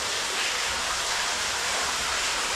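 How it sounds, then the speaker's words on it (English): Waterfalls inside a cave, a dense, even rushing roar of falling water that holds steady and loud throughout with no voices. "More waterfalls."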